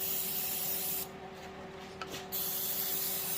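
Brake cleaner sprayed onto oil pan bolts from a Dodge Caravan 3.3L, a steady close hiss lasting about a second and a half, alone.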